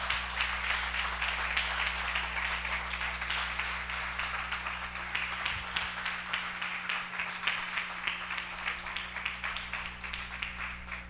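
Church congregation applauding during a Spanish-language sermon, a sustained wash of many hands clapping in a steady rhythm, moderately distant and uniform for several seconds.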